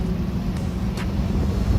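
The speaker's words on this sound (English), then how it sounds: "I've got an exhaust leak." A rebuilt 1985 Mustang LX 5.0 with an exhaust leak drones steadily while driving, a constant loud low rumble with road and wind noise and no talking.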